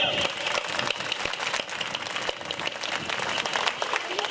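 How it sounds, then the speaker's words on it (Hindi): A large crowd at a martyr's statue unveiling ceremony in Balsamand applauds loudly for BSF comrades, dense steady clapping that fills the whole stretch without a break. "सबसे पहले हमारे बीच में पधारे बीएसएफ के साथियों के लिए जोरदार तालियां।"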